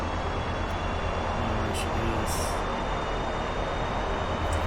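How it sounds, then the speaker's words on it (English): An F/A-18 Hornet's right jet engine spools up during a ramp start, a steady loud broadband roar with a constant high whine running throughout. "we will crank the right engine"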